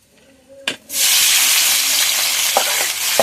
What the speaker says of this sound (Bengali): তেলটা ভালোভাবে গরম হয়ে গেছে, আমি এখানে কেটে রাখা পেঁয়াজ আর কাঁচা লঙ্কা, পেঁয়াজ আর কাঁচা লঙ্কা আমি একসাথেই দিয়ে দেবো।